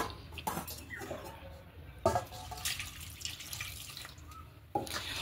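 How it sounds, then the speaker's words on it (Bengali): Water poured into 200 grams of kneaded flour dough, intermittent splashing and trickling pours with small drips, fairly quiet and close, no talk. "এবার এই ময়দার মধ্যে জল দেব।"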